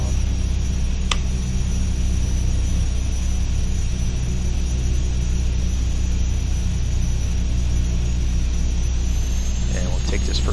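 Beechcraft Super King Air B200 turboprop engines droning while the plane taxis in after landing, a steady, loud, unbroken rumble from inside the cockpit.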